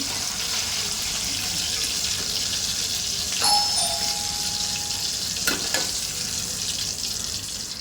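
Steady, loud sizzling of banana chips frying in hot oil after salted water is added, a constant bubbling hiss with a brief metallic clink partway through, no voices.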